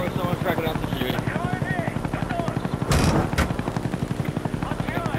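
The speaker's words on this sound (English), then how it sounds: "Friendly Huey inbound." A Huey helicopter arriving in the Call of Duty Black Ops video game, its rotor thumping in a loud, rapid rhythmic chop throughout, with bursts of gunfire and game noise layered over it.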